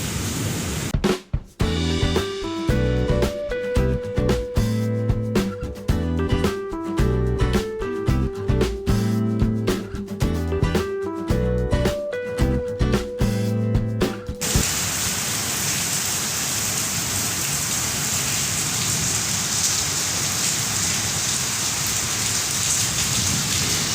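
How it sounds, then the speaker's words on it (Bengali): Moderate rain falls steadily with a broad, even hiss. Tonal music plays over the first half, and the rain then continues alone for about ten seconds. No thunder stands out. "বৃষ্টি অবশ্য খুব জোরে হচ্ছে না মোটামুটি হচ্ছে মেঘ ডাকছে বেশি"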